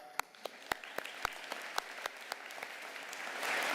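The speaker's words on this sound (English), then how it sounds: "round of applause on you" Applause rises for business-school graduates at a spring convocation. It starts as sparse, distinct claps in a fairly quiet hall and swells toward a fuller, steadier round by the end.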